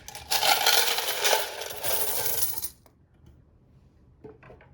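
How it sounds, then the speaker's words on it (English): A pile of loose coins pours noisily into a container for about two and a half seconds, a dense bright metallic jingle that stops abruptly, followed by a few faint clinks. "So I do have quite a bit of coins. I put them into this other container."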